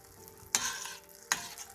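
Shrimp returned to a pan with black pepper and red pepper flakes, giving a soft sizzle with two quick scraping stirs about a second apart, close but fairly quiet.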